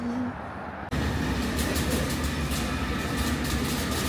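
A London metro train rumbles steadily with a loud, close, even roar of wheels and carriage noise, starting abruptly after a short quieter moment and continuing without a break.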